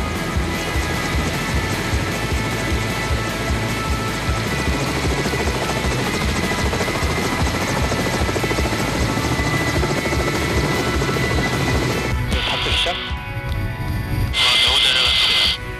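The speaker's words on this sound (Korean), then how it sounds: "담수할 곳을 발견한 헬기가 서서히 저수지를 향해 내려가기 시작한다" A heavy Russian-made helicopter's loud rotor thumps and turbine whine fill the air continuously as it descends toward a reservoir, nearby and steady, with a brief shift in tone near the end.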